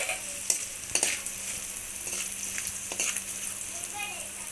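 Food frying in a pan with salt, a soft steady sizzle under sharp clinks and scrapes as it is stirred, fairly quiet and close.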